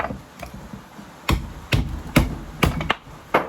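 Parts are knocked loose on a scrap transformer with a series of sharp metallic taps and knocks, about six close hits in an uneven rhythm against a low workshop background.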